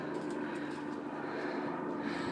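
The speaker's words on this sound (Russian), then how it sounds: "Вот еще один вертолет." A helicopter flies over the hills near Griffith Observatory in Los Angeles, a steady distant engine and rotor drone that holds evenly throughout, with no talking.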